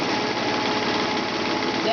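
Sewing machine with an edge joining foot stitching down quilt binding, a steady continuous motor hum and needle chatter, close and fairly loud, with a voice talking over it.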